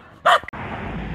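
A dog barking along a raccoon trapline outdoors, one sharp close bark followed by a brief yip, then low steady background rumble.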